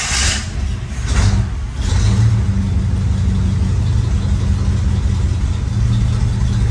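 A car engine fires up from a switch panel in the cabin and settles into a steady, loud idle rumble that runs on without interruption after a brief cranking burst.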